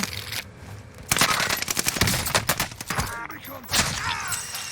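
Rapid pistol gunfire in the battle royale game Warzone, loud close bursts of shots in quick succession, with brief pauses between volleys.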